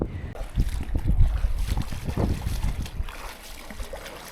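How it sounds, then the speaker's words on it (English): Strong 15 to 30 knot wind buffets a sailboat at anchor in a sheltered bay on Turkey's west coast. Gusty, rumbling blasts hit the microphone up close, with faint water movement beneath. "there's everything from 15 to 30 knots of wind"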